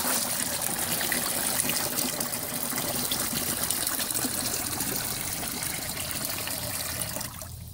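Water pours steadily into alfalfa liquid to dilute it, a continuous close trickling and gushing fill that runs unbroken until it eases off at the very end.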